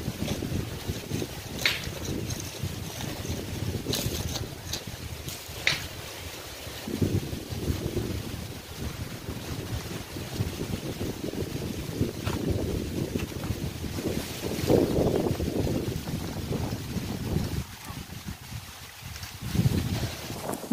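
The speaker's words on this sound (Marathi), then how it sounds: "वारा किती आहे ना, भरपूर." Strong wind blowing through a home garden, a loud, gusty roar buffeting the microphone continuously with rising and falling surges and no talk.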